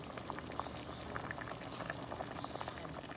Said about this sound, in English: I put my spaghetti noodles in. They're fixing to come to a boil,